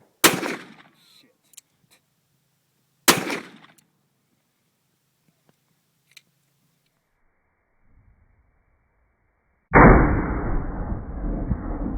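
Two loud, sharp reports from a Smith & Wesson Model 19 .357 Magnum K-frame revolver firing 125-grain rounds, about three seconds apart, followed by quiet and then a sustained rush of noise.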